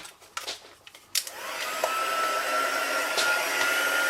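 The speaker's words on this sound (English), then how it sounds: "and put my heat gun over it." Heat gun blowing over embossing powder on a handmade card: a few soft handling clicks and knocks, then a steady, fairly loud airy whir with a thin whine rises and holds to the end.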